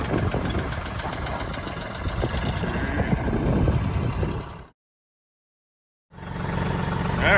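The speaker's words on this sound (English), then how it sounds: "There is our new 2515H Branson tractor." A new Branson 2515H compact tractor engine idles with a steady, knocking diesel chug, loud and close, cutting out for about a second and a half before resuming.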